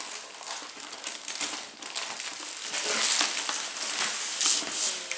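Wrapping on an item from a Halloween-themed Japanese subscription box being torn open, a continuous close crinkling and rustling of paper or plastic that grows a little louder toward the end.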